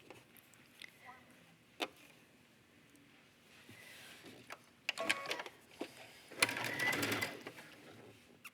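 A home sewing machine running a long basting stitch on a jogger pocket, heard in short quiet whirring bursts with small clicks and handling noise, the longest run near the end; a voice talks softly in places.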